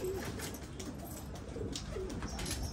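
Pigeons coo at a loft in Marrakech, low soft calls recurring a few times over a steady bed of background noise, fairly close.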